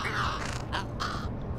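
A raven caws twice in Little Kitty, Big City, harsh, close and distinct, with a faint creaking texture underneath.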